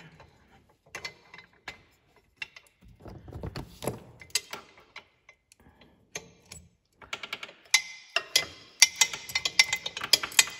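A ratcheting open-end wrench clicks while tightening hardware during a WARN AXON 35-S synthetic-rope winch install on a Kawasaki Mule SX, with scattered metallic clicks and clunks that grow into a denser run of rapid ratchet ticks toward the end.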